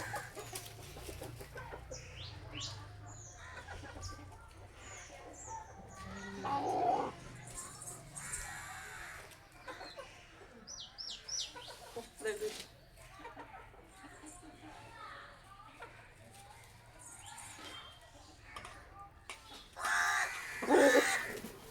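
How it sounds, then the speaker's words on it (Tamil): Crows cawing and chickens clucking close by outdoors while someone eats, with scattered loud caws and clucks over a quiet background and a short burst of louder calls near the end. "ஒரு காக்கா கோழி எல்லாம் வந்துடும்"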